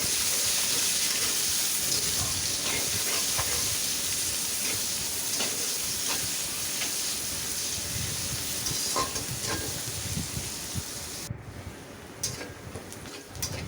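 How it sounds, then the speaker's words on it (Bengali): Chopped onions fry in hot oil with black cumin seeds, a dense continuous sizzle with occasional crackles and stirring scrapes throughout. "পেঁয়াজগুলো বাদামি করে ভেজে নিব।"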